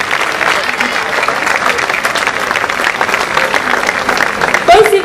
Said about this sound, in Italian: a loro rivolgiamo un applauso